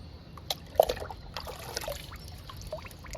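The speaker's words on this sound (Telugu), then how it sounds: "ఈరోజు పసుపు, ఉప్పు, రైస్ వాటర్తో కూడా లిక్విడ్ ఇస్తున్నాను మునగ మొక్కలకి" A turmeric, salt and rice-water liquid trickles and splashes softly onto moringa plants, faint and intermittent with brief dribbles against a quiet outdoor background.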